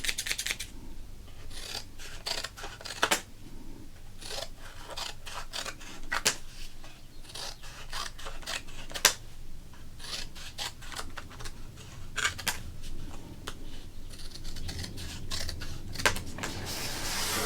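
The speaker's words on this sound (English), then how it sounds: "We should definitely cut up the Checklist card." Scissors snip and slice through a baseball checklist card, up close and quiet, with repeated sharp cutting strokes at irregular intervals and soft card rustling between them.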